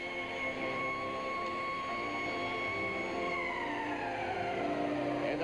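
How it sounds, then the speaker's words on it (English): A loud hockey arena end-of-game siren at the Montreal Forum wails on a sustained tone, then winds down in pitch toward the end, over a noisy crowd murmur. "we'll end at a 4-4 tie as the siren sounds"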